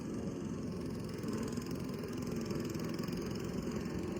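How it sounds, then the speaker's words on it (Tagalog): A steady, droning lawn mower hum runs unbroken throughout near a UK bus stop, with no voices over it. "Merong naglo-lawn mower."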